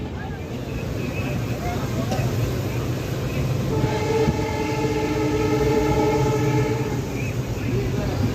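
A train rumbles steadily through a railway station at close range, with sustained tonal whining or horn-like bands rising partway through over the continuous rolling noise, and a voice faintly present.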